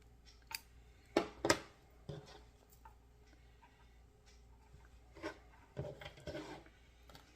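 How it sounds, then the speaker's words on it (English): Scissors snipping yarn after crocheting, a few close, quiet cutting clicks and rustles scattered over a faint background, with no talk. "this is where I am going to fasten off and cut my yarn"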